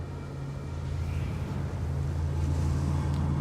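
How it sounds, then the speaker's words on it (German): Wind rises steadily across the desert in the game Journey, a loud, roaring rush with a low drone underneath, swelling gradually over a few seconds with no voices. "Der Wind wird wieder stärker."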